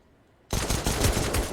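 Pistol fire from a Counter-Strike match, a USP and other handguns in a competitive esports game: after half a second of quiet, a loud, dense burst of overlapping shots and game noise runs continuously to the end.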